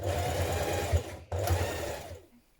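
Steady, close whirring of a sewing machine top-stitching around the front facing of a coat, in two continuous runs split by a brief pause, fading out at the end.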